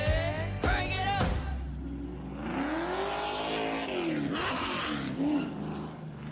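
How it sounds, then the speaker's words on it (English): Dirt late model race cars roar around a dirt speedway during a National Dirt Racing Association event at USA International Speedway, engines rising and falling in pitch as they pass, loud and continuous. "Oh, it's racing. Crank it up."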